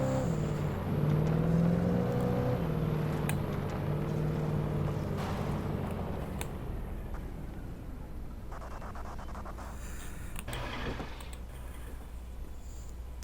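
A car engine in the video game Alan Wake Remastered idles and revs with a rough, uneven hum that settles into a steady drone, with faint clicks and clatter near the end.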